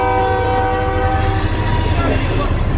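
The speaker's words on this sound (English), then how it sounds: "now the train is back in front of us again" A train in a video game rumbles past close and loud, sounding a sustained, steady horn blast over the heavy roar of the wheels before the horn fades out.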